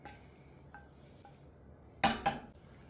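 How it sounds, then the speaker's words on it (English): Onions caramelised for tomato soup are stirred into a pot, with a couple of quick metallic clinks and scrapes of a utensil against the pan near the end, close and otherwise quiet. "And let's just stir those onions in"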